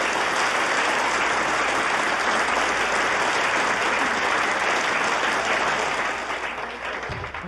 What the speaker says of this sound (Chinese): 也让我们把掌声送给他们